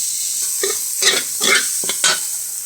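Egg, garlic and ham frying in oil in a pan, with a steady close sizzle and a few distinct bursts of stirring or spatula scraping.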